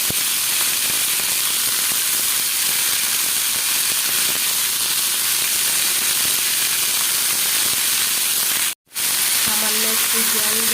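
Small local prawns fry in a pan with a little water, giving a loud, continuous broadband hiss and sizzle that cuts out briefly near the end and then resumes.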